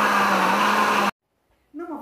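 A kitchen blender whirs loudly at a steady pitch while mixing four eggs, three carrots and oil for a carrot cake batter, then cuts off abruptly; a voice begins speaking shortly after.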